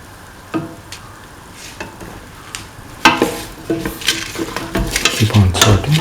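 Tomato pieces are stirred and sautéed in a pan, with a few sparse scrapes at first and then louder stirring and rising sizzle in the second half, close up with no talk.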